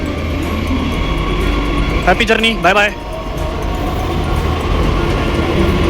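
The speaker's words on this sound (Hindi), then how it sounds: "यह मेट्रो निकल जाएगी द्वारका सेक्टर 21 के लिए।" A Delhi Metro train pulls out of Nirman Vihar station toward Dwarka Sector 21, its rolling rumble and rising motor whine steady and close, while someone speaks briefly over it midway.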